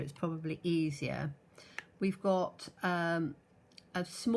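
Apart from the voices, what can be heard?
No everyday noises stand out.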